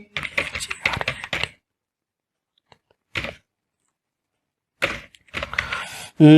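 Bursts of typing on a computer keyboard, quick clustered keystrokes with pauses between, close and clear, while a form is filled in.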